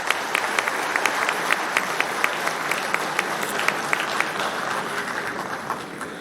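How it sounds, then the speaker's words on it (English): Audience at an IIT Guwahati convocation applauding the faculty, staff and students, a sustained burst of many hands clapping in a large hall, steady and loud from start to finish before easing slightly. "I think we should give a big applause to the faculty,"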